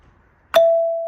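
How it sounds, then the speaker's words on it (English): A faulty doorbell chime gives only a single ding instead of ding-dong, one sharp metallic strike that rings on as a clear sustained tone, close and loud after near-silence. "it's only touch here, it goes ding, not ding dong"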